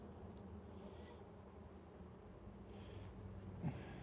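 A steady, faint buzzing of honeybees around a beehive hums throughout, a low drone with a soft brief thump near the end.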